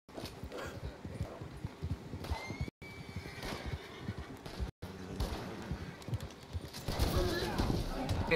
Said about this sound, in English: This horse is the stupidest horse I own.